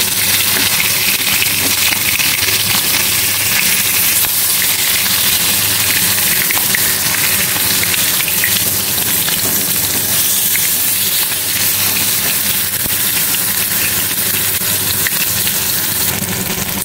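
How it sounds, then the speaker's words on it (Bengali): Fish pieces frying lightly in a pan for a home-cooked curry, giving a steady, dense sizzle and hiss that stays close and loud throughout with no voices. "এই দই পাতলা হবে, তাই বেশি কড়া করে ভাজবো না মাছগুলো, হালকা হালকা ভাজবো।"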